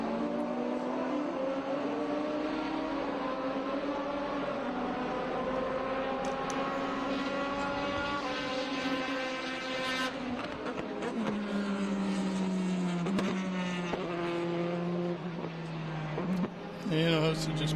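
Race cars roar along the front straightaway at Portland International Raceway during an SVRA vintage race, engines sustained and loud, pitching up through the gears and dropping as they pass, with commentary over the top.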